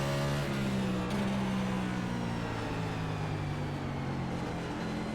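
A NASCAR race car in the iRacing sim at Martinsville drones steadily with a low engine note that rises and shifts as the throttle comes on and off, continuous and fairly loud with no talking.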